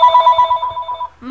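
Inside a Phantom Forces game session, a very loud telephone rings with a harsh buzzing tone that pulses rapidly for about a second, and then a voice breaks in.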